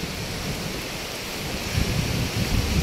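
Sea waves wash onto the beach at Ras Al Khaimah, a steady broadband roar with soft surges building louder toward the end, mixed with some wind and no voices.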